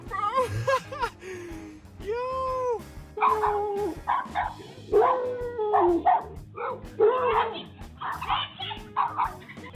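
Dogs barking, yipping, whimpering and howling in bursts, loud and close, with excited human voices mixed in between the calls.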